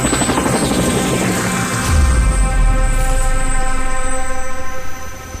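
A helicopter's rotor and turbine roar loud and close, steady throughout, with a deep thump building partway through as it powers up; no talk over it.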